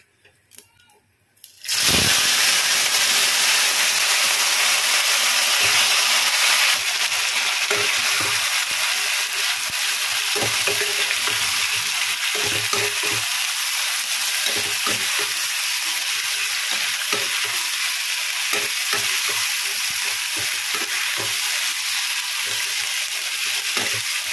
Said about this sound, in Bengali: এবার আগে থেকে যে ম্যারিনেট করা মাংসটা ছিল, তো চলো সেটা দিয়ে দিই।